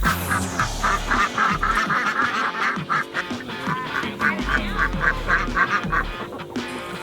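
Hatchery-bought ducks quack repeatedly and close by in a farmyard, a steady rhythmic series of nasal calls that runs almost continuously, with low rumbling handling noise underneath.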